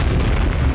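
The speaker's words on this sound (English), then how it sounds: "don't look at explosions" A video game explosion bursts out as a short, loud, dense boom with a rumbling low end, filling the moment without any talk over it.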